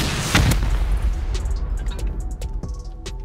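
A rocket launched in the Rust survival game: a heavy booming blast near the start, then trailing rumble and scattered sharp pops and clicks as it fades.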